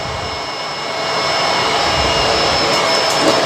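A Bissell Multi Clean Allergen Pet vacuum cleaner running steadily, a loud close whirring roar with a high whine that swells slightly in the first second and then holds constant as it sucks up dirt.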